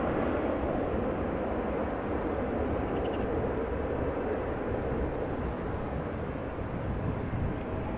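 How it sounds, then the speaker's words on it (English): A passenger airliner landing at Amsterdam Schiphol Airport on runway 06 on a windy day, a steady, broad engine roar heard from a distance that holds even throughout, with wind rumble on the microphone. "Silky smooth landing there"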